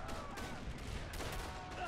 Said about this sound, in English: now that I'm no longer getting deafened by the sound of gunfire and artillery